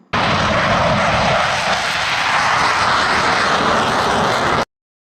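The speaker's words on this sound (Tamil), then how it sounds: "ஸ்வீடன் நாட்டைச் சேர்ந்த சாப் ஏபி நிறுவனத்தின் கிரிஃபன் என்ற விமானமும்" A Saab Gripen fighter jet's engine roars as a steady, loud, broadband rush that holds unbroken for about four and a half seconds and then stops abruptly, with no talking.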